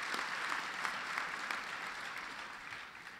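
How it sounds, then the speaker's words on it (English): Sustained audience applause at a presidential speech on the American auto industry, given to union members honoring a former transportation secretary; steady dense clapping fills the whole stretch at moderate distance, slowly tapering toward the end. "a big round of applause."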